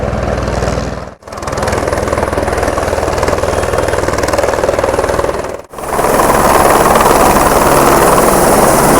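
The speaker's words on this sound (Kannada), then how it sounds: "ಹೆಲಿಕಾಪ್ಟರ್ ಬಂತು, ಇವಾಗ ಇಳಿಯುತ್ತೆ. ನೋಡ್ರಿ ಯಾವ ಥರ ಲ್ಯಾಂಡ್ ಆಗುತ್ತೆ ಅಂತ." Helicopter landing at a Ganapati fair in Tiptur, loud and close, its rotor chop pulsing steadily over a heavy engine roar, with two brief dropouts in the sound.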